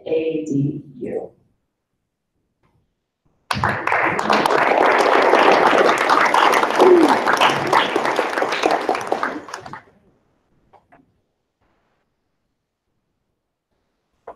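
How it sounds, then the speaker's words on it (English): Audience applause for spellers at a school district spelling bee, a burst of clapping around six seconds long that starts abruptly after a pause and fades out, with a voice heard just before. "Extra round of applause for them."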